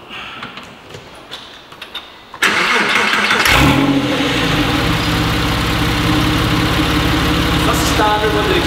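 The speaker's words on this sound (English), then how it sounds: "start the car up now briefly so you can hear it start to run" Porsche 911 Carrera S Aerokit cranks and fires up with its sports exhaust closed, a loud sudden start that settles into a steady, fairly muted idle after a few quiet seconds of background noise.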